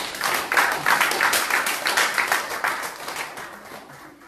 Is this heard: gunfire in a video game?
no